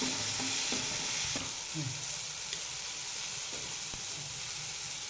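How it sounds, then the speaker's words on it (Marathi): Onion and tomato chutney sautés in a pan with a continuous close sizzle, punctuated by scraping and tapping from a spoon or spatula as it is stirred. "आता याच्यामध्ये चवीनुसार मीठ घालून घ्यायचं आहे चांगलं परतवून घ्यायचं"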